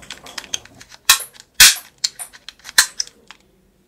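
A toy sniper rifle firing ball bullets, sharp plastic snaps and clicks in an irregular burst, several louder cracks among quick lighter taps, close and crisp with no talking.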